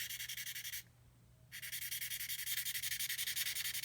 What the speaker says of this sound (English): I've just got a little bit of 800 grit sandpaper, and what I'm going to go ahead and do is let's see if I can't rub that off